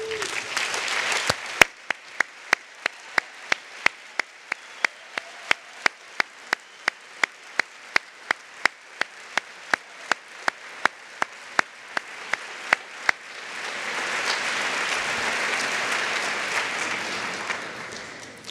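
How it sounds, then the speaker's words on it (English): At the 2018 Louis I. Kahn Award ceremony, steady isolated claps tick along for several seconds before a full audience bursts into sustained applause that fills the room. "Henry, I'd like to give you a round of applause"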